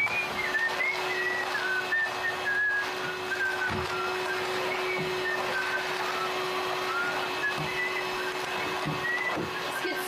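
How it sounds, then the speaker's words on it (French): A person whistles a wandering melody indoors, the tune running continuously over a steady vacuum cleaner drone with a few soft knocks. "Je siffle."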